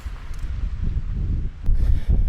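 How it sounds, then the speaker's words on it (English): Strong wind on an exposed ridge, buffeting the microphone in uneven low gusts that swell louder toward the end. "The wind was really starting to increase."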